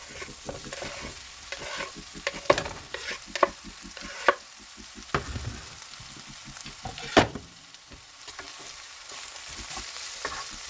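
Close sizzling and frying as leafy vegetables cook with garlic and oil in a pan, with repeated scraping and tossing clatters as they are stirred around.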